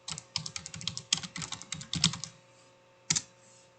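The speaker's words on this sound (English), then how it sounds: "I'm going to type in order number" Typing on a computer keyboard to enter a label into a spreadsheet cell, a quick run of close keystrokes with louder thumps, a pause, then a final short burst of keys.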